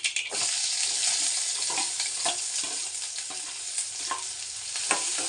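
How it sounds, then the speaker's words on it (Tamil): Chopped onion and green chilli sautéing in hot oil after mustard seeds have popped, a steady close sizzle broken by repeated scraping stirs of a spoon in the pan. "இதை நல்லா வதக்கணும் கோல்டன் ப்ரௌன் ஆக வரைக்கும் வதக்கணும்"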